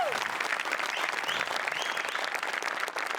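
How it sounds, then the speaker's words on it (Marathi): A studio audience at a Marathi comedy show applauds loudly and steadily throughout, with a dense, continuous patter of many hands. "एकदा जोरदार टाळ्या माझ्यासाठी झाल्या पाहिजेत"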